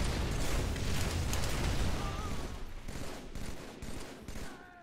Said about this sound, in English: That's a guy who's going buck wild with a fucking grenade launcher or rocket launcher.